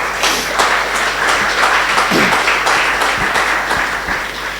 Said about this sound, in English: let's have a big round of applause for Get Smarter.